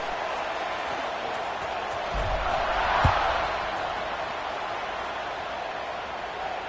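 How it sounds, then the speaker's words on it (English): A stadium crowd in the college football video game CFB 26 keeps up a steady, dense roar throughout, swelling slightly for a moment midway with a brief low thump. "this crowd is buzzing after that last score"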